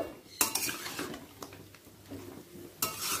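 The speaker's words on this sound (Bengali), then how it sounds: "আর বড়টাতে আমি মাংসটা পেঁয়াজের সাথে প্রথমে ভালো করে মিশিয়ে নেব" Chicken meat being stirred together with onions in a pan over a high gas flame, with sharp metal utensil clanks and scrapes against the cookware at the start and end and softer stirring scrapes in between.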